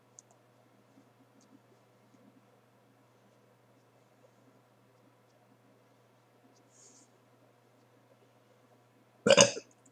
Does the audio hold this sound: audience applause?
no